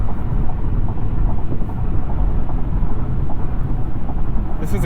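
A 2021 Honda Accord Hybrid cruising on a concrete highway, heard from inside the cabin as a steady, loud roar of tires on pavement that holds level throughout.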